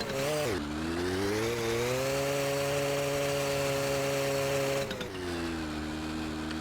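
A car engine in the video game My Winter Car drones loud and continuously, with a buzzing, harsh tone. Its pitch dips and recovers near the start and again around the five-second mark, and the drone runs unbroken for nearly seven seconds.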